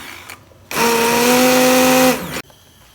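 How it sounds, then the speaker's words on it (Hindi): A hand blender whirs through a spice paste for fish curry in one steady, loud burst lasting under two seconds, starting and stopping abruptly, with no talk over it. "सारे मसाले को हम ये हैंड ब्लेंडर की मदद से इसको ब्लेंड कर देंगे"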